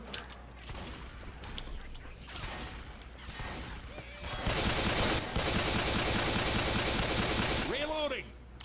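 Shotgun blasts in Left 4 Dead 2 during a fight with a Tank, scattered booming shots amid a chaotic wash of game noise that swells loud in the second half, with players talking over it.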